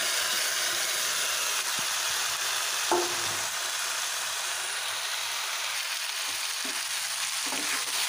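Marinated chicken and onions with garlic sizzle in a pan with a steady crackling hiss, close by, broken by a few light stirring knocks.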